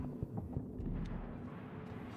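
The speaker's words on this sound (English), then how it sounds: "you really do not want to be out there when the shockwave hits" A shockwave blast in the puzzle-platformer game INSIDE comes through as a low, muffled rumble that rolls on continuously, with a few soft thuds inside it and a fairly faint, distant feel.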